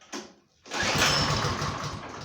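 A Harbor Freight Predator 301cc engine on a Simplicity snowblower is cranked: a short pull, a brief pause, then a harsh, loud rush of engine noise sustained for about a second and a half, close by.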